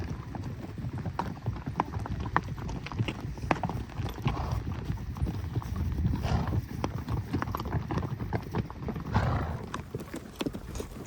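Hooves clip-clop steadily as horses walk, a continuous uneven patter of hoof strikes close by, with low rumbling background noise.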